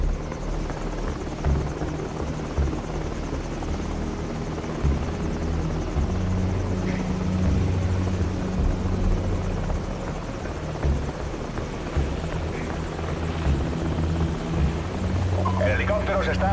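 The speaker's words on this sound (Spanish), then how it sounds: "El helicóptero se está alejando." Helicopter from the video game Call of Duty 4, a steady low rotor drone running throughout the whole clip at a constant, fairly loud level, with game ambience and voices mixed in.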